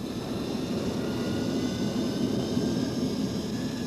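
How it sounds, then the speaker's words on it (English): Steady, loud engine roar inside the Vomit Comet, the zero-G aircraft used for weightlessness flights, a continuous broadband drone with no talking. "Affectionately known as the Vomit Comet, this plane is the only way there is to experience weightlessness"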